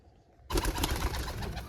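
Racing pigeons fed a mix of wheat and mustard seed coo softly nearby, with a burst of rustling and bird sounds starting suddenly.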